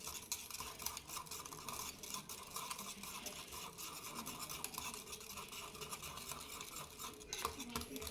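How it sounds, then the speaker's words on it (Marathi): Buttermilk kadhi ingredients being whisked together in a bowl in a home kitchen: a steady, continuous scraping swish that stays quiet and close throughout, with no voices. "आता हे आपण छानपैकी असं मिक्स करून घेऊयात"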